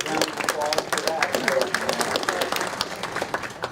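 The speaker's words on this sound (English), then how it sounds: "Round of applause for that." At an annual meeting and dinner, a room of attendees claps in acknowledgment of a helper, with lively, uneven applause close by and a voice speaking over it.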